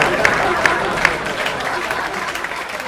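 Clapping from a stand-up comedy show audience, a steady patter of applause with crowd murmur, a few sharper individual claps standing out near the start.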